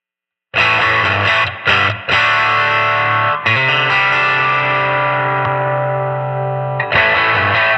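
Electric guitar played through the Kazrog Airline V15 amp plugin with a simulated SM57 mic at the cabinet edge rings out in loud, distorted sustained chords, broken by a few quick stops and restrikes.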